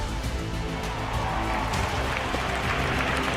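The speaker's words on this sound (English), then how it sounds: "can I hear a huge round of applause?" A large crowd applauds at an Indian Air Force air show in Chennai, with steady, dense clapping and cheering that holds at a constant level throughout.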